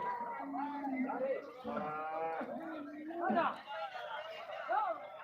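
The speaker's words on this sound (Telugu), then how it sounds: "చూడండి ఇక్కడ కట్టేసి పెట్టిన ఆవులంతా కూడా తీసి కట్టేసి పెట్టిన ఆవులే" Cows tied up at a cattle market in Chintamani moo several times at close range, drawn-out lowing calls rising and falling amid background chatter of people.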